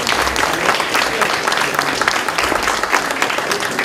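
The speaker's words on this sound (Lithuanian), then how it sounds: "Audringi plojimai ir šypsenos" Applause after a speech at a public discussion on Europe's future in Klaipėda, dense and steady clapping from a sizeable audience filling the whole moment, loud and close.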